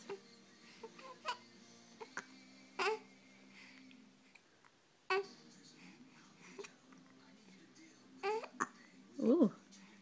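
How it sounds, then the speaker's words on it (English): Short, sharp hiccups pop out at irregular intervals between soft babbling vocal sounds and breaths, close and fairly quiet. "Oh, someone's got the hiccups."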